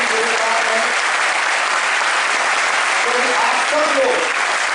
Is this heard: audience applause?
yes